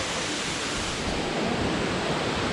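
A jungle waterfall in Colombia roars as a steady, loud, broadband rush of falling water that stays unbroken throughout.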